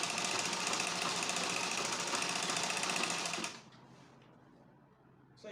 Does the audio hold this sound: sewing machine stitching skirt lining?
yes